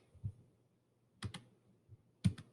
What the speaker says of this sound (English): I'm clicking on the shape, I'm clicking on the link